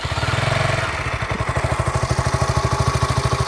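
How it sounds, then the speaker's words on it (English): KTM Duke 200 BS6 motorcycle idling, its exhaust giving a steady, close, low thumping pulse that stays even throughout with no other sounds. "So now let's listen to the exhaust note."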